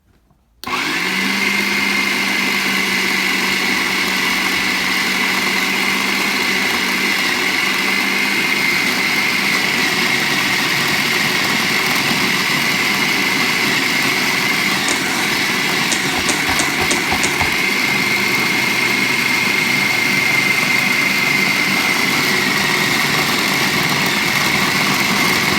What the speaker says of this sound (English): we're just going to turn on the food processor again and we want to combine everything